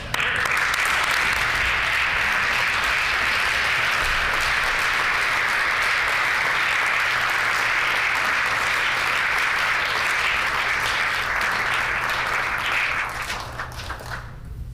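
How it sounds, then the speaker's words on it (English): Steady, dense applause fills a legislative chamber for visiting guests, sustained and loud for about thirteen seconds before tapering off slightly at the end. "Please stand up and let's give them a round of applause."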